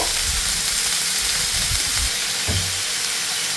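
Prawns fry with spice masala in a pan, giving a steady hiss and sizzle broken by a few soft low scrapes and thumps of stirring.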